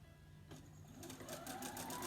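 A sewing machine stitches through a bulky mini quilt, its motor whirring steadily close by, starting softly and then speeding up into a denser, louder run of rapid stitching.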